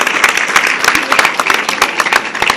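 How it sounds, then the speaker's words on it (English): Dense, steady applause from a gala audience, many hands clapping together in a continuous close wash of claps with no voices on top. "I think that deserves a big round of applause"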